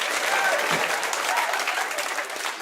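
Crowd at a live stand-up comedy show applauding, a thick continuous patter of many hands clapping close by, holding steady and fading slightly at the end.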